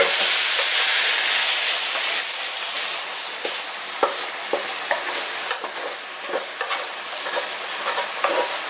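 Meat sizzles and fries steadily in a hot pan, a dense continuous hiss with scattered pops and the occasional scrape of stirring, loud and close, with no talk.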